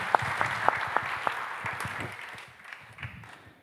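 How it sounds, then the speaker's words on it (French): An audience at the official opening of the Futurapolis Santé 2023 conference claps, a few sharp individual claps standing out at first, then the applause thins and fades away. "Mais on applaudit Étienne Gernel"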